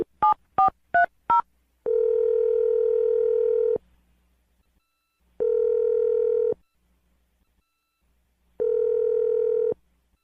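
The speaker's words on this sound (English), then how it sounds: "I'm going to dial her phone number right now." A run of four fast touch-tone keypad beeps dials out. Three long, even ringing tones follow, spaced by silent gaps, heard clean and close over a telephone line.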